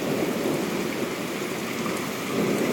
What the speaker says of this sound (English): And the hail has finally gone back to rain.